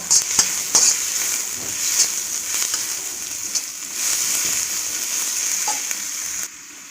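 Onion sautéing with about five crushed garlic cloves in a pan at a Kerala street food stall, a steady bright sizzle with scattered scraping stirs and utensil knocks, close and continuous before cutting off near the end.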